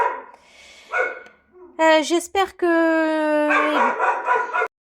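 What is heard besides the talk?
dog barking at passers-by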